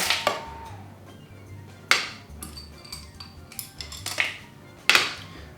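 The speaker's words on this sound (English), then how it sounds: "Then we'll add 1/3 of our chocolate back into the mixture." Metal utensil clinks and taps against a bowl as chopped chocolate is added to melted chocolate while tempering, with several sharp, separated strikes at irregular intervals, close and fairly loud with no talking.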